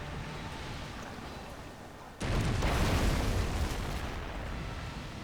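Ship cannons fire in a naval battle in the strategy game Anno 1404. One sudden deep boom cuts in partway through, followed by a loud rumbling roar that slowly fades over a low background wash.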